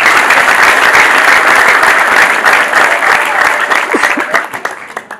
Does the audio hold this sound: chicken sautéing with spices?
no